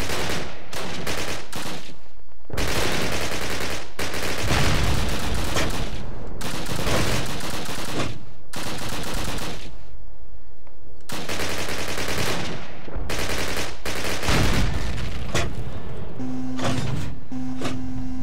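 Bursts of automatic gunfire from the Call of Duty video game, set during a mission to save London Bridge, rattle in loud sustained volleys separated by brief pauses, with a short electronic beep near the end.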